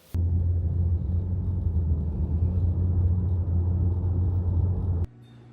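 A car interior rumbles steadily while driving, a low constant engine and road drone for about five seconds before cutting off abruptly, with no voices.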